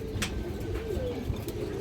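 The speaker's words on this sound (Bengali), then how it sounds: "পুরান লাইনের একটা পেয়ার বাঘা কবুতর মাসাল্লাহ যে দেখেন নরা ডাক দেখেন" A male Bagha pigeon calls in a low, throaty coo close by, with a couple of sharp clicks over a steady hum and no talking.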